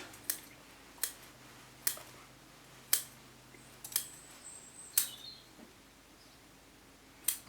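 Scissors snip through the roots of a golden larch being pruned, about eight sharp, evenly spaced cuts close up, each a crisp click with quiet pauses between.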